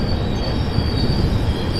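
A train pulls out of Mavelikara station in Kerala, wheels grinding and squealing loudly on the rails, close by with a steady metallic screech over heavy rumble.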